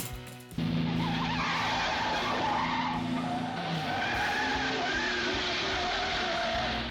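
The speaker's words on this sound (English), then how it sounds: "you can't have a Bond film without a good car chase" Tires skidding and squealing in a car chase from a James Bond film, a loud sustained screech with engine roar after a sharp start, continuing for several seconds.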